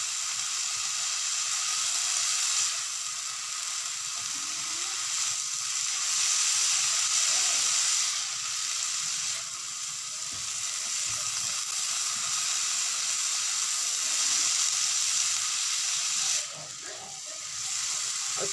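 Khesari greens with potato and eggplant sauté in a pan, giving a steady, bright hiss of frying throughout with soft stirring scrapes and brief dips in the sizzle.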